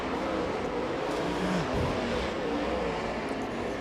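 Late model race cars on the Arizona Speedway dirt oval during a main event, a continuous distant engine roar with a brief swelling pass as the cars run into a turn.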